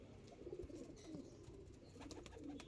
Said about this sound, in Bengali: আজকে কিছু পায়রা এনেছি যেগুলো পাকিস্তানি লাইনের পায়রা। টেডি পায়রা আছে